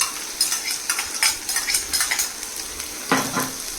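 Chopped onion drops into hot oil in a pan for stuffed brinjal masala, giving a brisk sizzle broken by repeated stirring scrapes and light clinks of a spoon against the vessel, close and fairly loud, with no talking.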